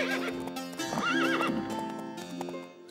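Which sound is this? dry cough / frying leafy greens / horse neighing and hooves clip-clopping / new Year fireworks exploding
horse neighing and hooves clip-clopping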